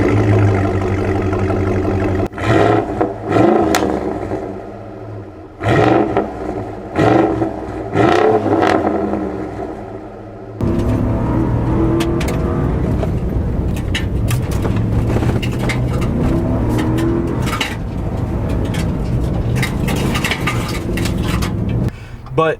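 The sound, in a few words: 2014 Ford SVT Raptor engine and exhaust while driving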